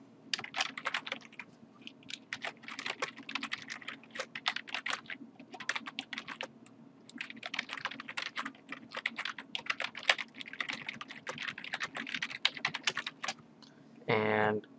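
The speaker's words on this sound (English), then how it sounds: "And I just typed in the title of it" Rapid typing on a computer keyboard while entering a title and description for a WinRAR self-extracting archive: quick irregular bursts of close key clicks, steady throughout, with a brief voice at the end.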